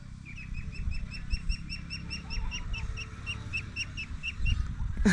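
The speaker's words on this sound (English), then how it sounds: "these are duck chicks for the duck running" Ducks with their ducklings call outdoors, a steady stream of repeated high peeping chirps running throughout over low background rumble, fairly near and moderately loud.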